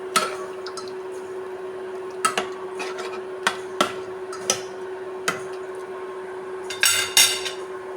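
Chicken liver cooking in a pan with turmeric, salt and pepper, stirred by a spoon that gives scattered sharp clinks and scrapes against the metal over a steady low hiss, with a quick cluster of clatters near the end.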